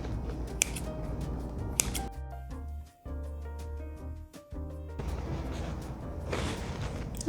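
Kitchen scissors snip the overhanging pastry edges of a Bakewell tart shell, giving a few sharp, close clicks and cuts amid quiet handling noises, with short pauses between snips.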